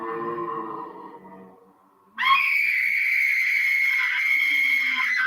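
A shrill, sustained scream from the horror film House on Haunted Hill cuts in abruptly after a lower wailing tone fades, continuing loud and unbroken to the end.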